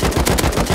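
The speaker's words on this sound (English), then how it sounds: "I'm about to shoot AK." Rapid burst of AK rifle fire in the survival game Rust, several close, loud shots in quick succession with no talking.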